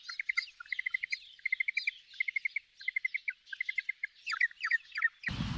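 Rapid series of bright chirping notes in short repeated bursts, clear and moderately loud with no talk, attributed to penguins; a sudden broadband thump cuts in at the very end.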